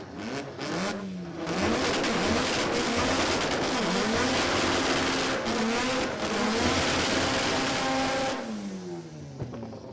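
Rotary-engined drag car at Warwick Dragway in Australia, revving hard and accelerating through rising gear pulls, loud and close with a buzzing, high-pitched engine note that holds for most of the time before easing off.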